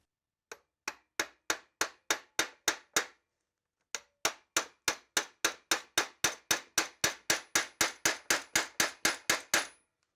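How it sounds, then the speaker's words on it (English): A hammer drives a roll pin into a custom Porsche brake pedal box, a run of sharp, evenly spaced metallic strikes close by, then a short pause before a longer, faster series of blows. "I think I can just hammer it in."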